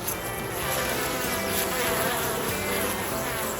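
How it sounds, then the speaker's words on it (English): Honey bees swarming around a freshly opened garden hive in early spring, a dense, continuous buzzing drone that stays loud and close throughout, with no talking. "our bees have become very active"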